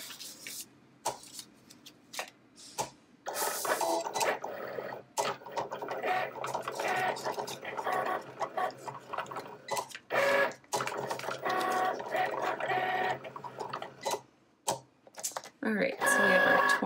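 A Cricut cutting machine cuts vinyl for DIY wine glass decorations, giving a whirring, stop-start mechanical buzz with brief pauses as the carriage moves, while a person talks over it.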